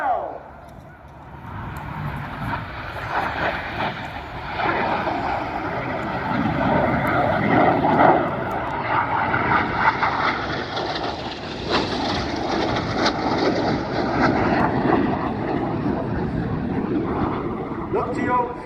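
RAF Red Arrows display jets roar overhead during the carousel manoeuvre at the Royal International Air Tattoo, a loud sustained engine rumble that swells and fades with passes while a commentator talks over it.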